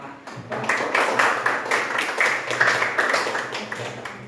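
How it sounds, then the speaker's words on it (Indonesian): A classroom of seventh-grade students applauds a classmate, steady clapping from many hands filling the room for several seconds without pause. "Oke, beri aplaus untuk teman kalian"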